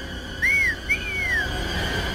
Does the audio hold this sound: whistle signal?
yes